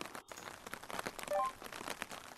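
Steady rain in the video game Toshiden Urban Legends, a dense wash of drops hissing evenly across the whole stretch with no voices over it.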